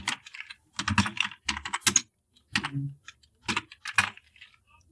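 Typing on a computer keyboard while entering text in Microsoft Office, heard as close, crisp bursts of key clicks in irregular clusters with short pauses between, no voice over it.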